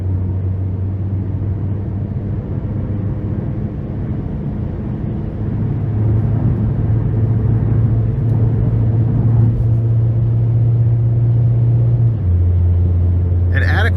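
Steady, loud low engine drone and road rumble from a 2017 Chevrolet Sonic LS hatchback with the 1.8 engine and 105,000 miles, heard from inside while driving, continuous throughout with a slight shift in pitch near the end.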